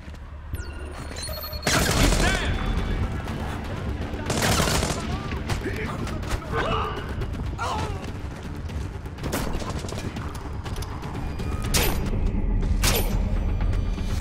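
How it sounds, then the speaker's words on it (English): Machine gun bursts in Splinter Cell Blacklist, loud sharp volleys repeating at irregular intervals over a constant rumbling background, close and dominant. "Machine gun action going on here."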